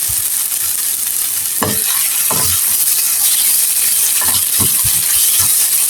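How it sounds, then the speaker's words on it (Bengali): Sweet pumpkin fries loudly in a pan, with a constant hissing sizzle broken by several short clinks and scrapes of stirring. "আমি আর একটু ভেজে নিব লাল লাল করে ভেজে নিব"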